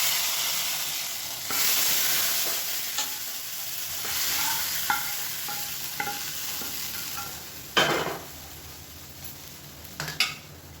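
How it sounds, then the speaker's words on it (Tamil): Cumin and curry leaf tempering stirred into ridge gourd kootu in a pan, a steady soft sizzle with spoon scrapes and a few sharp clinks of metal on the vessel, no talk. "தாளிப்பு அப்படியே இதில் போட்டுக்கலாம்"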